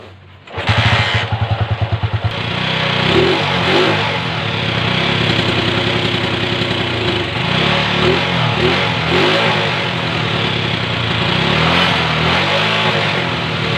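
Motorcycle with a stock exhaust starting up and revving hard close by, a steady loud engine roar with repeated throttle swells through the pipe, heard alone with no talk.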